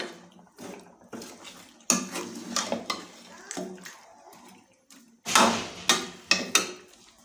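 Fish curry (machli ka salan) gently stirred in a pan, with intermittent metal clinks and scrapes of a spoon against the pan coming in short bursts, some louder strokes near the end.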